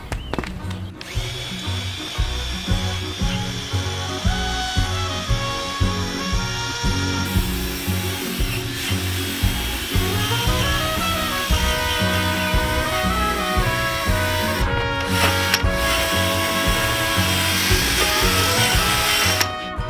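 Repetitive rasping strokes of sandpaper on a Peugeot 206 plastic headlight lens, a steady rhythmic scrubbing that continues close and fairly loud throughout with brief pauses.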